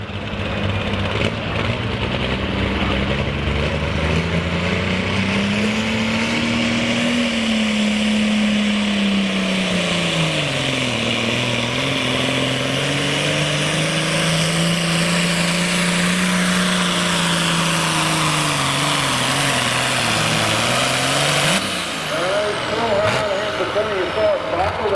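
A John Deere tractor engine roars under heavy load during a truck and tractor pull, a loud sustained drone whose pitch rises and dips as it strains down the track, with an announcer talking over it throughout.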